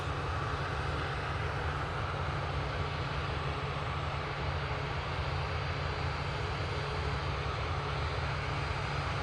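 An airliner climbing overhead after takeoff from Manchester Airport, a loud, steady engine roar with a droning low hum, continuous throughout and free of talk.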